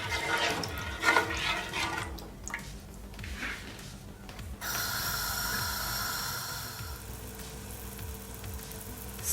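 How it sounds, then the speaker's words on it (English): Teriyaki sauce heating in a pan toward a boil, giving a bubbling, watery sizzle that turns into a steadier hiss in the second half, close up with no talking. "you're just gonna allow it, guys, to come to a boil"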